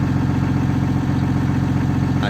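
A 6.9 diesel engine idles with a headers exhaust, giving a loud, steady, close rumble with an even low pulsing beat and no voices.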